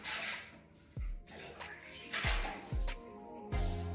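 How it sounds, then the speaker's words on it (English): Water in a basin splashes in repeated bursts as hands scoop it to wet a face during a skincare routine, close and fairly loud, with drips and pauses between splashes. "Then you're gonna wet your face."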